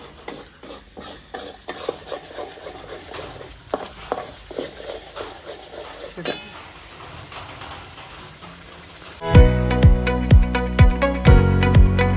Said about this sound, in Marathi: आता चिकन फ्राय आणि इकडं रस्सा उकळत आहे